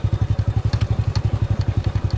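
An old motorcycle riding on a road in the Philippines, its engine thumping in a fast, even pulse with a deep low-end throb and light mechanical clatter on top, close and loud for the whole stretch, with no talk.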